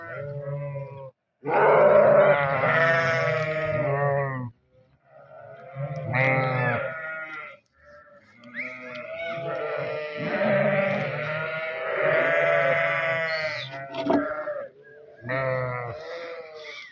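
Repeated loud bleating from several sheep and lambs, calls overlapping in bursts with short pauses between them.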